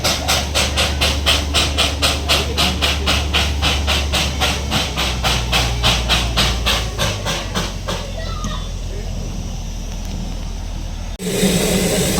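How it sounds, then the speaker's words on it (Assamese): A Darjeeling Himalayan Railway diesel locomotive approaches on the narrow-gauge line, its loud, rapid rhythmic pulsing and hiss beating steadily up close before easing off into a rumble that cuts abruptly near the end. "এইটো ডিজেল ইঞ্জিন আহি আছে।"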